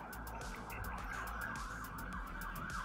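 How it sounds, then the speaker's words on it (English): Emergency vehicle sirens wail outside, heard indoors as a continuous rising and falling tone at moderate distance with a low traffic rumble beneath. "There's more sirens outside."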